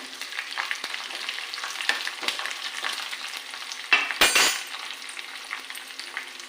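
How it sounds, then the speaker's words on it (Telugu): Steady oil sizzling and crackling while cooking amaranth leaf dal, with a sudden louder burst of hissing as onion is dropped into the hot tempering oil partway through. "చిన్న ఉల్లిపాయ కూడా వేస్తున్నానండి. తాలింపులో ఉల్లిపాయ వేస్తే బాగుంటుంది."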